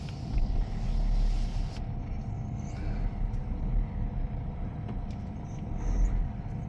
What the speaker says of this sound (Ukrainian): В даний момент я якраз заїжджаю під навіс.